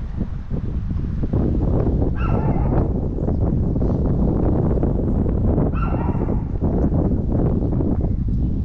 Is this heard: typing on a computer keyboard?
no